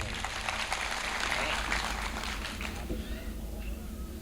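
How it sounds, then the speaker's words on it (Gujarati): An audience at an annual social gathering applauds, producing a dense, steady crowd clapping that fades toward the end, with voices talking over it. "સાહેબને આપણે તાળીઓથી વધાવીએ."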